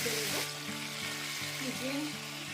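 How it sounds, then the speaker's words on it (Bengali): Pomfret fish fry in hot oil over a raised gas flame, a steady close sizzle with a low hum beneath and a few faint tonal sounds drifting over it. "গ্যাসটা বাড়িয়ে ভাজতে হবে।"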